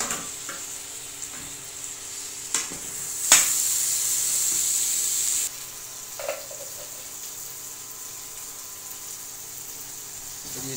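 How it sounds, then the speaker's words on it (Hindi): Tomatoes are added to chana dal in a hot pan, producing a burst of loud close sizzling that lasts a couple of seconds, with a few scrapes and clinks of stirring before and after in an otherwise quiet kitchen. "थोड़ा भुनाई करेंगे इसका जी। तो दोस्तों अभी इसमें हम लोग टमाटर शामिल कर रहे हैं।"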